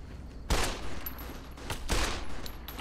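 Gunfire in the video game Fallout New Vegas, a few sharp loud shots spaced irregularly over a quiet background, no talk.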